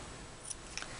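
Scissors snipping the trailing ends of a small ribbon bow on a handmade Christmas sleigh card, a few quiet, brief cuts spaced apart near the end, alone with no talk.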